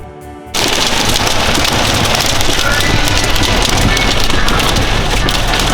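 Heavy rain and hail pelt down during a storm in Kansas, a dense, steady roar of impacts with wind buffeting, beginning abruptly after a brief quieter moment and continuing loud throughout.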